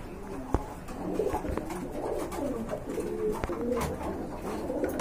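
A pair of Rajgolla pigeons coos softly and repeatedly at close range, low murmuring calls over a steady background hum with a few sharp knocks.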